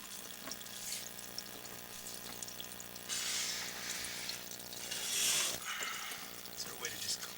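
Water runs steadily into a house drain line, a faint continuous hiss and splash that swells midway, with quiet voices now and then.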